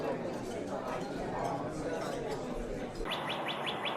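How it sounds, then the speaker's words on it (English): Cardinals at a backyard bird feeder give a short series of bright, sharp metallic chip calls, about five evenly spaced notes near the end, over a steady noisy outdoor background. "Cardinals are territorial songbirds."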